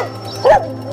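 A village dog near a river bridge in Penampang gives a single short bark, loud and close, over steady motorbike riding noise.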